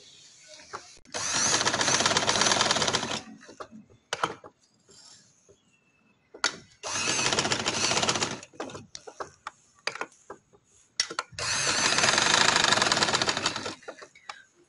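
A sewing machine stitches salwar fabric in three long steady runs of fast, even mechanical whirring. Quiet pauses with small clicks and handling noises fall between the runs.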